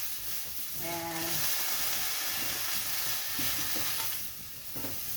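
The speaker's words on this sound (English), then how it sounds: "so I just put in some oil, asafetida, salt, and just stir fry it" Broccoli stir frying in oil with asafetida and salt: a constant close sizzle with scraping stirs, plus a short tonal beep early on.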